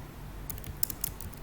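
Several quick, light keystrokes on a computer keyboard as a pip install command for OpenCV is typed, close and fairly quiet with no voice.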